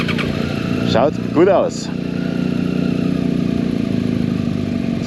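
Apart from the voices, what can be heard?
motorcycle engine starting and running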